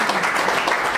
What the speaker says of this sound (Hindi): बताओ जोरदार तालियों के साथ इनका अभिनंदन करेंगे।